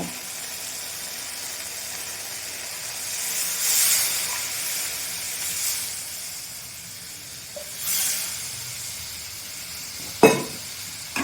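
Water poured into spice paste frying in oil sizzles and hisses for a Bengali fish and eggplant curry, making a soft, continuous hiss that swells in a few gentle surges, followed by a couple of sharp clinks near the end.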